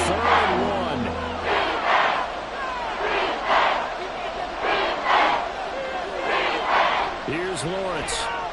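Stadium crowd roaring in a Madden NFL video game, a broad sustained roar that swells and pulses for several seconds with cheering peaks, heard under a play-by-play commentator's voice.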